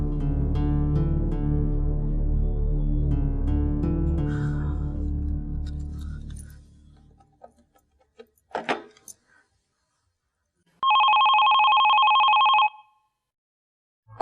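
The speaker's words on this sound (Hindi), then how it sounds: "कोई टेलीफोन भी नहीं उठा रहा," A telephone rings, sounding one sustained electronic ringing burst in a quiet room after music fades out and a few faint knocks and clicks.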